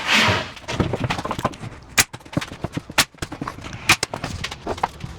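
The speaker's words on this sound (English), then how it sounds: "I'm going to use the nail gun." Several sharp, loud pneumatic bangs of a nail gun firing into wood ring out, spaced apart with about a second between them, over clattering and knocking at close range.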